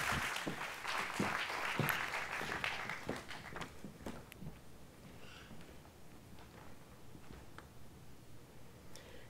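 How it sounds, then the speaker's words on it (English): An audience at a fintech demo day applauds for a founder: crisp, close claps build into full applause, then thin out into scattered claps and fade. "Please give a big round of applause for Jennifer, our first entrepreneur."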